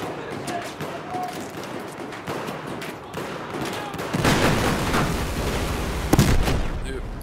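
Battlefield 4 combat on the Titan mission: sustained gunfire and bursts of automatic fire, swelling into a louder, denser barrage midway with a sharp blast near the end, likely the RPG explosion.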